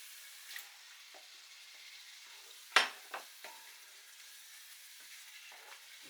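Beef curry frying in a pan as meat goes back in, a soft low sizzle with a few light stirring scrapes and one sharper clink of utensil against the pan.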